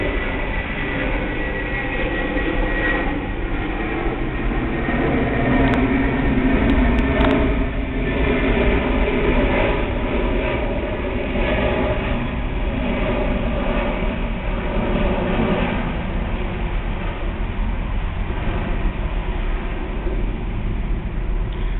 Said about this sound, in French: il y a encore eu un avion, j'ai dû me taire